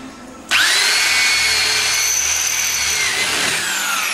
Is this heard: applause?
no